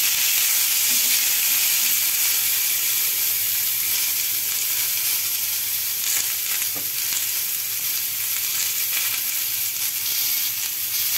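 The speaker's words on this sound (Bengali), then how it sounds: "সবজিগুলোর মধ্যে রয়েছে কুমড়ো, পটল আর একটু আলু রয়েছে। এটা সবজিটা ভালোভাবে একটু ভেজে নিচ্ছি।" Pumpkin, pointed gourd and a little potato fry in a pan with a steady, loud sizzle and occasional stirring scrapes, continuous throughout with no talking.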